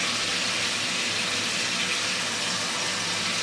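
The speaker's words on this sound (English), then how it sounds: "So you get some nice warm water, you fill up your sink" Warm water runs from a tap into a sink, a steady, loud rushing gush that holds constant throughout with no talking.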